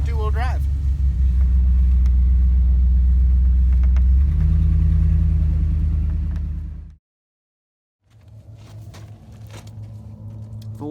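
A Jeep Wrangler YJ runs in two-wheel drive, its engine a loud, steady rumble that shifts pitch partway through, then cuts out briefly before the droning resumes more quietly.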